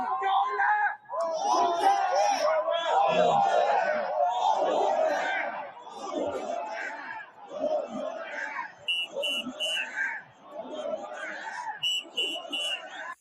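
A large crowd at a political rally in Hungary cheers and chants in a loud, sustained roar of many voices that ebbs and rises in waves.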